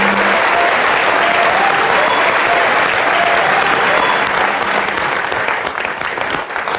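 A large audience claps loudly and continuously for a guest at a talk event, a dense sustained roar of hands with a faint voice underneath, easing slightly near the end.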